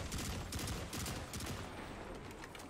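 Sustained bursts of rapid gunfire crackle through a video game firefight during a zone-capture match, dense overlapping shots rolling on steadily for the whole stretch with no voices.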